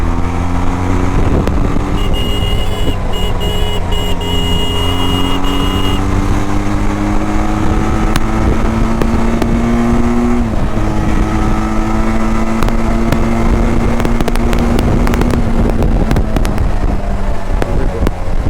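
A Benelli TRK 502 touring motorcycle rated at 47.5 PS and 46 Nm pulls hard with a loud, close engine drone that climbs steadily in pitch through the gears, with a shift partway through and constant wind rush and no talk.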